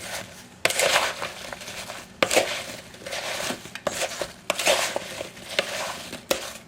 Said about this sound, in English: Then toss it. Use it with a wooden spoon.